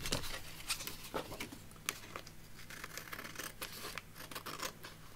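Scissors snipping out a paper tag for a handmade lapbook, giving soft, close crisp cuts and rustling paper over a faint low hum, with no voices.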